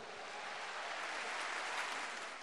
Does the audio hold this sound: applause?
yes